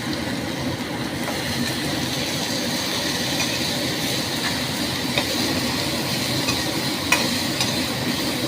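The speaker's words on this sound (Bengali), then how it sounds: "ভালো করে মশলা দিয়ে নাড়ব।" Ridge gourd with poppy seed and spices is stirred in a hot pan, a steady sizzle with continuous scraping and rustling of the spatula, close and even throughout, no voices.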